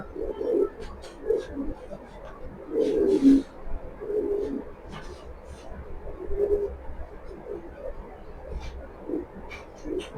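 Racing pigeons coo in low, rolling bursts spaced across the stretch, fairly close over a steady background hum, with faint speech at times.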